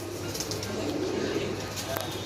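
Young Malwai pigeons coo softly in a loft over a constant, noisy background.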